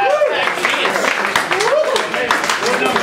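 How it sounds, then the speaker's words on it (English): A crowd at a university pub presentation night applauds steadily throughout, a dense wash of clapping with cheering voices rising and falling over it. "Round of applause."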